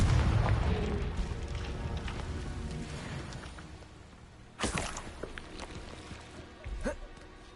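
A Confringo fire spell from Hogwarts Legacy detonates with a heavy rumbling boom that fades over several seconds, followed by a sharp blast and a smaller burst, with speech faintly underneath.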